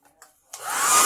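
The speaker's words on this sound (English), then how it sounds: "I've been blow drying this for like five minutes" A hair dryer switches on after a couple of faint clicks and blows with a steady, rising whoosh, loud and close.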